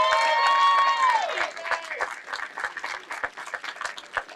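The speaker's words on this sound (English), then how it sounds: "give him a round of applause." Scattered crowd clapping at an outdoor justice march, rising as a sustained tone fades out, then continuing as uneven, moderately loud claps.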